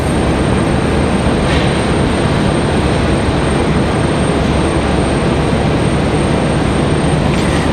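An American Airlines A321neo bound for Miami at stormy Raleigh-Durham airport makes a loud, steady broadband engine roar, unbroken and without talk.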